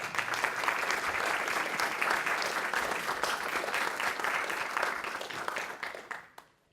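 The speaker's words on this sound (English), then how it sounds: "so please give them a round of applause." An audience at a congressional briefing claps for the panelists in a steady round of applause that thins out and stops near the end.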